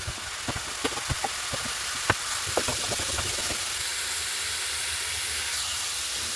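Cumin, coriander and turmeric powder are stirred into frying masala for a pomfret curry with potatoes and peas, giving a steady hissing sizzle with a cluster of sharp utensil taps early on, then smoother frying.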